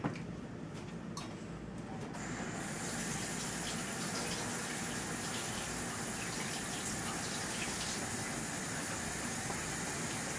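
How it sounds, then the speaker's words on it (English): Hot water runs from a kitchen tap in a steady, hissing gush that starts after a couple of seconds and continues evenly, close and fairly quiet. "so you can hear some water running"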